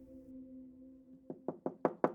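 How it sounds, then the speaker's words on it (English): Knocking on a neighbor's front door: five sharp, evenly spaced knocks, fairly close and clear, following a steady low hum. "I knocked on his door."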